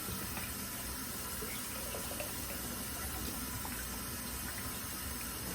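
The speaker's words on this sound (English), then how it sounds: "I just rinse it until the water is clear and not blue" Water from a tap runs steadily into a sink, rinsing out dye, a constant close hiss with no breaks.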